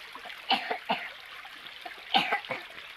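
Several short, quiet coughs sound close by outdoors near water, coming in small clusters over a few seconds against a faint trickling background.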